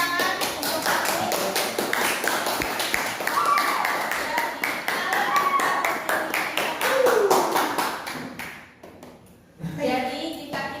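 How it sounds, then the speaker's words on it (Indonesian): Schoolchildren and teachers in a classroom clap together, a brisk run of sharp, even claps that fades out, with children's voices and chatter around it. "Beri tepuk tangan untuk kami."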